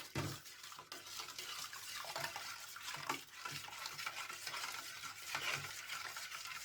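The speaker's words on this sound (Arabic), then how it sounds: "ابتدي انزل على الخلطة بتاعتي هنا بالتدريج كده شوية شوية واقلب" Repeated scraping and squelching as a thick cleaning paste for a burnt gas stove grate is stirred in a bowl, rhythmic strokes with a faint sizzling, wet texture underneath.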